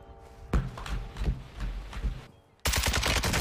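Gunfire in an online shooter game, with rapid bursts of shots and impact thuds that stop briefly, then a loud continuous volley breaks out near the end.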